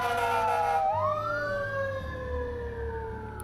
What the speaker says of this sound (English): I made a transition effect using this fire truck